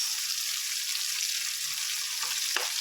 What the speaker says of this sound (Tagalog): Salutuin lang natin guys yung shrimp.